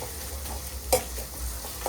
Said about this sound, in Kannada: ಈರುಳ್ಳಿ ಎಲ್ಲ ಚೆನ್ನಾಗಿ ಫ್ರೈ ಆಗಬೇಕು.